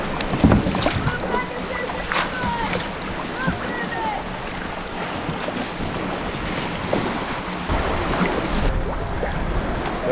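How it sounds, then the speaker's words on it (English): A rowboat being rowed on choppy lake water along the rocky shoreline of Pictured Rocks, Michigan, with sloshing water and heavy wind buffeting the microphone throughout, plus occasional oar splashes and knocks. "All right, let's row a little bit."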